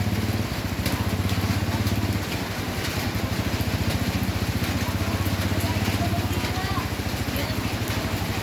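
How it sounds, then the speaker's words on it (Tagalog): Heavy rain roars steadily alongside a low rhythmic engine-like throb, a dense continuous wash of sound with muffled voices underneath. "Lakas ng ulan."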